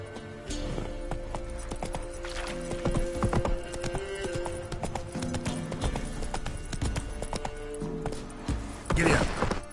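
Hooves of a horse clip-clop in a steady galloping rhythm through a video game scene from The Witcher, close and loud over a busy game soundtrack, with a short whinny and brief shouting voices near the end.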